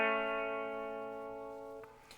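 A guitar rings out with a sustained, effected chord or note from a riff, decaying slowly under a chorus-like shimmer, with a soft extra pick near the end.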